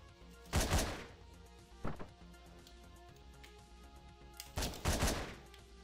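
Gunfire in the top-down video game Hotline Miami: a sharp burst of shots, a lone shot, then another heavy burst, fairly quiet over a faint music bed with no talk.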